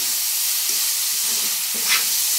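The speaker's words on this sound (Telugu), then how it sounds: "ఉప్పు వేసుకొని ఒకసారి ఈ విధంగా కలుపుకుంటూ ఫ్రై చేయాలండి" Chopped banana flower frying with salt in a pan while being stirred, a loud constant close sizzle and hiss with faint scraping from the stirring.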